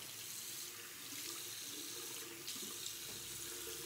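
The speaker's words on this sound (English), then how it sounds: "I'm gonna add a ton of water to this" Tap water runs steadily into a sink while shaving soap is lathered with a synthetic brush, a soft, continuous splashing hiss heard alone throughout.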